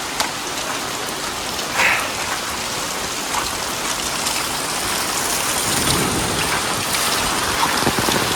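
Heavy rain pours steadily, a dense unbroken hiss of drops drumming on surfaces nearby, with no voices.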